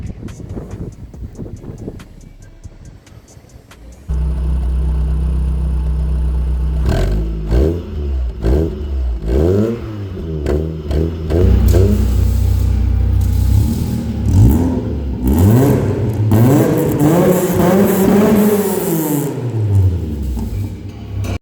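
A VW Golf 1 fitted with a new Powerflow exhaust tailpiece starts up, then idles deep and is blipped through repeated rising and falling revs, loud and close, with a few longer pulls near the end.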